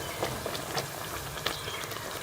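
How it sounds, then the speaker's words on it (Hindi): Potato pooris deep-frying in hot oil give a steady, close crackling sizzle with soft bubbling pops throughout, and no voices. "इसी तरह जो है वो दूसरी पूड़ियों में फ्राई कर लेंगे"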